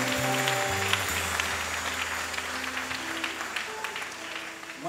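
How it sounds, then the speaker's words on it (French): Applause from a church congregation praising the Lord, a soft, continuous patter of many hands beneath lingering organ or keyboard tones that fade early on. "applaudis le Seigneur, applaudis le Seigneur"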